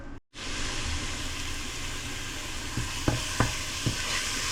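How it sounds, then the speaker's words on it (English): Garlic sautéing in a pan for braised pork: a steady, close sizzle and hiss throughout, with a few light clicks near the end and no voices. "So you want to saute your garlic."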